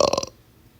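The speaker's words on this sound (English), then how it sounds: "I'm burping." A single loud, close burp lasting about a third of a second, with a rough pulsing rasp, then near silence.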